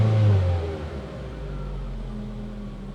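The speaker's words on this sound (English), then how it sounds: "And it'll drop down to normal idle here in a second." A 2011 Ford Focus engine comes down from a brief rev and settles into a steady, low idle, heard close and alone.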